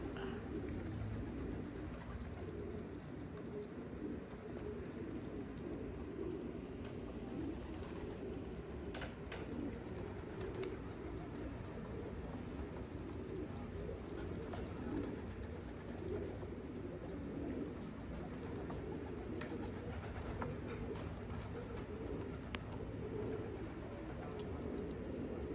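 Racing pigeons on a loft roof after a 51-mile toss, soft cooing and faint wing and bird calls under a steady outdoor background hum, continuous and moderately distant.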